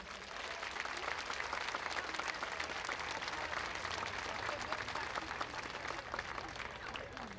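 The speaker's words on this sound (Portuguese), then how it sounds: "quero pedir um forte e caloroso aplauso para o seu presidente João Puga" Festival crowd applauding the festival president and organizers, a steady, fairly distant sheet of many hands clapping that runs the whole stretch, with faint voices mixed into the noise.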